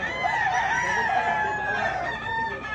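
Fighting roosters crow at a busy market in Lipa, Batangas, several overlapping drawn-out calls filling the air with steady crowd noise beneath.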